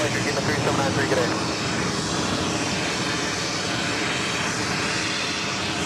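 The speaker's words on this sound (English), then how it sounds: "Cayman Airways heading to Georgetown, taking off there" Cayman Airways airliner bound for Georgetown roaring on takeoff at JFK, a loud, steady broadband engine rumble throughout with voices talking over it.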